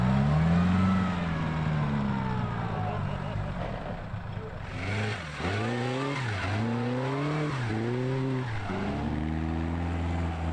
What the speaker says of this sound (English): The track gives them a chance to experience what it was really like to drive and ride in one of these ancient automobiles